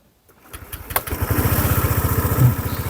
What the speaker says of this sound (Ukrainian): Перевіряємо старт-стоп, даємо газ.